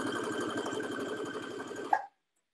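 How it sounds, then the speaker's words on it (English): A sewing machine runs a rapid, even basting stitch through a single layer of a lined dress hem, a steady close mechanical chatter for about two seconds that stops abruptly. "And we'll baste all the way around."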